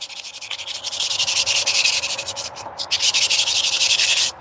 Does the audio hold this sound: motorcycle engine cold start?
no